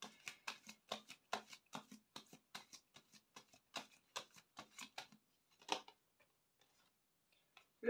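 Tarot cards being shuffled and drawn from a deck, a quick run of crisp flicks and riffles over several seconds, then a pause with a couple of light card taps and a soft rustle at the end.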